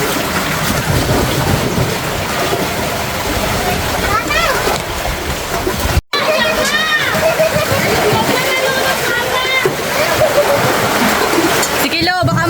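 Heavy storm surf during Typhoon Carina surges into a house, a loud continuous rush and splash of water with wind-driven rain, with shouting voices over it and a brief cut midway.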